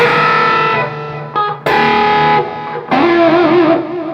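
Distorted electric guitar notes wobble and flutter in pitch as the tremolo bar is flicked, sustaining loudly with a rapid warbling vibrato.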